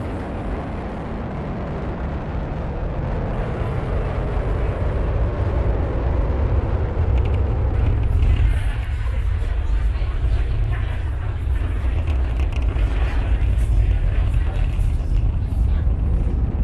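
A Falcon 9 rocket carrying the Crew 10 astronauts thunders in a sustained, broad roar, rumbling and crackling continuously throughout, with a voice talking over the noise.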